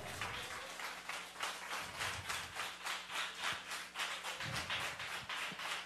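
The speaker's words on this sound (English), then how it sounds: "Clap it up." Church congregation clapping in a steady, even rhythm throughout, a dense wash of hand claps that fills the sanctuary with no break, loud and sustained from start to finish.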